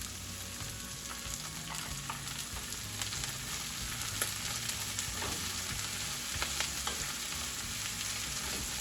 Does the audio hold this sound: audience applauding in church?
no